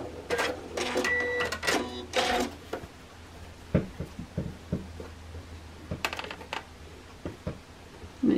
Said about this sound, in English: I'm just going to stitch down those sides to secure that until we're ready to stitch it all together.